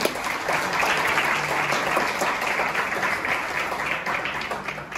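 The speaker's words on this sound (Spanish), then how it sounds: "Un aplauso especial." Loud, steady crowd applause at a business leaders' gathering in Medellín, dense clapping from many hands that holds for about five seconds and begins to thin near the end.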